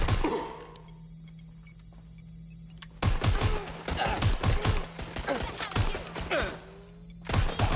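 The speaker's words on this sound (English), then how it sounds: "Taking fire! I'm getting shot!" Gunfire in Watch Dogs: Legion set in futuristic London, a quiet stretch giving way to a run of loud sharp shots and thuds from about three seconds on, with a steady hum beneath.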